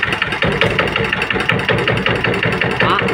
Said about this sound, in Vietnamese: Chỉ có cho bà con mình là nghe tiếng máy nổ thôi ha